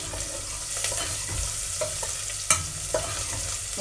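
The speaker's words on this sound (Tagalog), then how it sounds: "Tapos lalagyan lang natin siya ng beef" Beef cubes for kare kare fry in a pan with a loud, steady sizzle as a utensil stirs them, giving a few scraping clatters against the pan.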